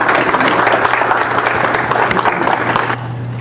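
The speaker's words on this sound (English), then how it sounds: "Let's give him a round of applause." Audience applause greeting a professional couponer at a preparedness talk, a loud, dense, sustained clapping from a crowd that drops off abruptly near the end, leaving a quieter room hum.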